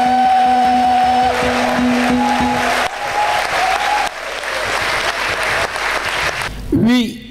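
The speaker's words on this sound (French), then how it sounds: "et je vais sentir des acclamations pour Jésus." Congregation applauding during the closing Mass of a Saint Joseph retreat in a church: sustained, loud clapping from a large crowd with a steady tone beneath, easing near the end as a brief vocal sound rises.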